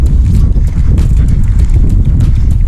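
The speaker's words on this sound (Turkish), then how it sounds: "Sert sert vuruyor rüzgarı." Loud, steady wind buffeting the microphone at Palamutbükü on the Datça coast, Turkey, a dense low rumble with gusty bursts and faint pattering of raindrops, continuous throughout without any voices.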